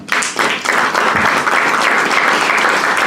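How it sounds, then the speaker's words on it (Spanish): A church congregation claps together during a service, dense and loud applause that starts suddenly and holds steady throughout. "Regálale un aplauso, Señor."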